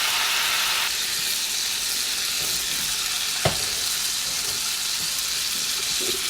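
Steak searing in a hot pan gives a steady, close sizzling hiss throughout, with one brief sharp pop about halfway through and no talking.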